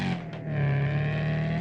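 Car engine revving steadily in the racing video game Forza Horizon 5, a loud, sustained, rich engine drone that dips briefly then holds a high, continuous roar.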